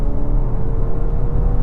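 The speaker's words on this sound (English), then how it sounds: "Back to comfort mode, floor it again." A 2024 Volkswagen Atlas Cross Sport in comfort mode under full-throttle acceleration, heard from inside as a steady loud low engine drone and rumble with faint tonal whine, no voices.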